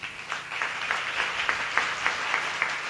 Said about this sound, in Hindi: ताली तो बहुत धीमी है।